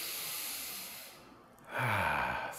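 Children in a seated chair yoga pose take slow breaths, a soft airy exhale followed by a fuller, louder inhale, close and quiet with no talking.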